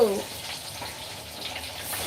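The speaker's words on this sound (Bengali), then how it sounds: "মাছ ভাজছি এখন" Fish fry in a pan with a steady, soft sizzling hiss for a couple of seconds, while people talk nearby.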